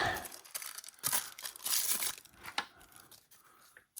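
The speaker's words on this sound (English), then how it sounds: "Gosh, just rip that open." Toy packaging for Marvel Legends West Coast Avengers action figures being ripped open by hand, with a run of close, crinkly tearing and crumpling bursts that come in uneven spurts across the whole stretch.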